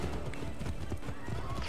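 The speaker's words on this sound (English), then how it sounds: "I can't believe there was a horse there the whole time." A horse in the Assassin's Creed 3 video game gallops with rapid, steady clip-clopping hooves and a neigh, loud and close throughout the short burst.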